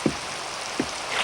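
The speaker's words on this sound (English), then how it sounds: "I don't mind a bit of rain." Steady rain falls in a continuous broadband hiss across the whole stretch, with a couple of brief low thumps and no one speaking.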